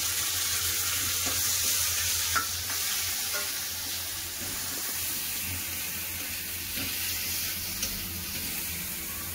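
Chopped onion frying in hot oil with crushed garlic makes a dense, steady sizzle, with occasional stirring scrapes close by and no speech.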